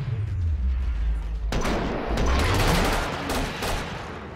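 Rapid gunfire from the video game Killing Floor crackles in dense bursts over a low rumbling background, loud and close, with sharp shots clustering after a quieter opening.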